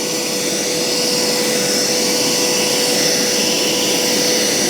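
A Hoover Power Scrub Deluxe carpet cleaner suctions carpet with a loud, steady roaring whine and a constant tonal hum, close and unbroken throughout.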